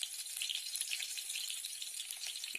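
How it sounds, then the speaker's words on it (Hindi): Chillies, garlic and tomato frying in a pan for a sunsunia greens dish make a steady, bright sizzle with crackling spatters, close and continuous, with no talking. "इनमें मिर्ची डाल देबो और लहसुन डाल देबो और टमाटर डाल देबो।"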